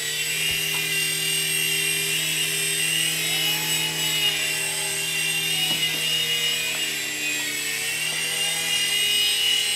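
A small RC mini helicopter hovering nearby, its rotor and motor giving a steady, high, whining buzz that holds nearly constant throughout with slight wavering in pitch and no speech.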